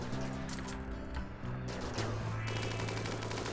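Colonists in RimWorld fire their guns while packed close together. Rapid, overlapping shots crackle in steady bursts at a fairly faint level, with no voices.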